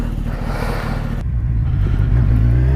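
A 2017 Kawasaki Z1000 motorcycle engine revs up sharply, the loud exhaust note climbing in pitch and then holding a strong, rising drone close by.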